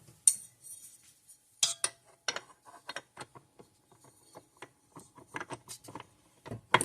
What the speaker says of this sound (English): Let's grab my dough hook.